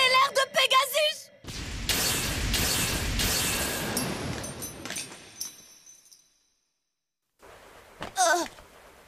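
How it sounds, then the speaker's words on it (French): Cartoon explosion effect for Pegasus's special attack in a Beyblade battle, a loud roaring burst with crackling bangs that swells, fades to silence, then gives way to a short voice near the end. "L'explosion stellaire de Pegasus!"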